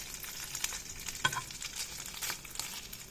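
Longganisa sausage toasts in a pan with a soft, even sizzle and a few faint clicks and pops, quiet and close, no voices.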